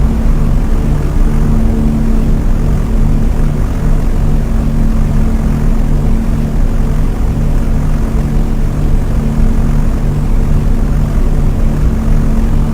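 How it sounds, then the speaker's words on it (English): Propeller engines of German warplanes drone overhead in a loud, continuous low rumble with a steady hum, no voices over it. "a first wave of German aircraft would be launched"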